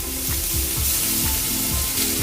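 Garlic fries in oil in a clay pot, crackling and sizzling up close with a steady bright hiss and soft rhythmic stirring scrapes, without any voices.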